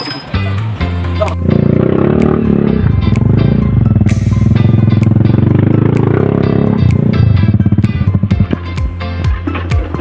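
A motorcycle rides a rough rural road in Barangay Huling Gangaw, Misamis Oriental, its engine droning loud and steady at close range with rattling clatter, and a voice talks briefly near the start.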